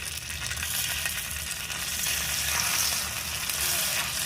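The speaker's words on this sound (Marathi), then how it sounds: "आपण तुपामध्ये आता हे अळूचे कंद असे सोडायचे" Taro corm slices frying in ghee on a hot griddle, with a steady, loud sizzle that is close and continuous throughout. No voices are heard.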